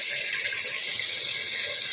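Broth being poured into a curry, a continuous close splashing, trickling liquid sound holding steady throughout with no talk.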